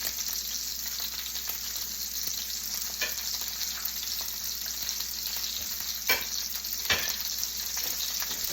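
A brined, buttered steak sizzles in a pan, a steady close hiss of frying that runs throughout with a few small pops and crackles.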